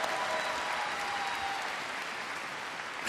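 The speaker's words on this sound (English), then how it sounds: "Oh, it's when we're clapping, isn't it?" Steady applause from a large convention audience at a Star Wars Celebration panel in the XL Centre, a dense, even wash of clapping that holds for about three seconds with no voices over it.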